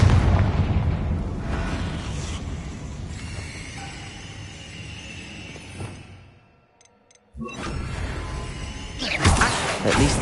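A Confringo blasting curse goes off inside a tomb in Hogwarts Legacy, a loud broadband burst followed by rumbling debris and echo, then a brief hush before a second loud blast near the end.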